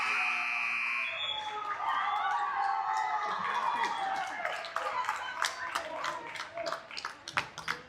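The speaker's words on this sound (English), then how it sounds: "these seniors are going to sub out to a round of applause" A crowd at a high school basketball game applauds seniors leaving the court, the clapping building from a steady roar into scattered claps, heard under a commentator's voice along with a buzzer or alarm tone near the start.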